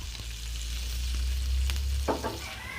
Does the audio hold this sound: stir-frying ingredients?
yes